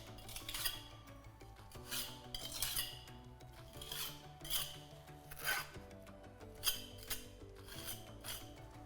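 A steel pointing trowel scrapes and rasps along a brick mortar joint in repeated strokes as the finish is formed, close and fairly soft with no talk.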